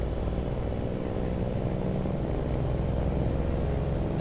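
A loud, steady low rumble of a heavy truck's engine brake in American Truck Simulator, used in town, a continuous throbbing drone with a faint high whine above it.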